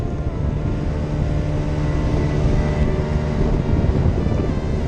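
A two-stroke or four-stroke scooter engine drones steadily while riding, with wind buffeting the microphone; the motor hum holds a constant, loud, close level throughout.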